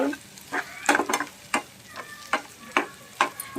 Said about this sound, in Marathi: छान परतून घ्यायचे